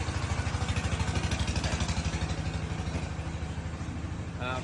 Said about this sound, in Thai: ลูกค้าขับรถไถมาซื้อของ